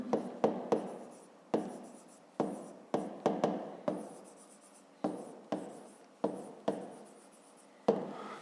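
Handwriting during a fifth-grade math lesson, chalk or pen tapping and stroking in short repeated bursts with sharp onsets, close and steady, no speech over it.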